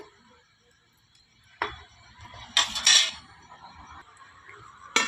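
Metal lid set down on a pot of spiced tempered rice cooking over a wood-fired clay stove, giving a few bright clanks and rattles spread over several seconds against quiet kitchen background.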